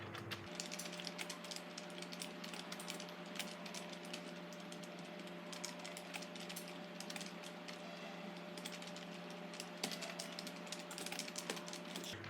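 Someone types HTML table code on a computer keyboard. The key clicks are quiet and fairly steady, with a faint constant hum underneath.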